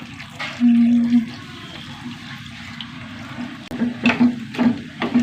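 Water is poured into a cooking pot holding green chilli, turmeric, salt and a large tomato, making a steady close splash and trickle that fades into faint kitchen noise and a few later bursts of clatter.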